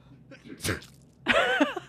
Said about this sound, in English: I added a sound effect of a person really sneezing